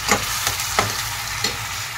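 Cashew and tomato paste fries with onions in a pan for restaurant-style egg lababdar. A steady, loud sizzle runs throughout, broken by three quick scraping stirs.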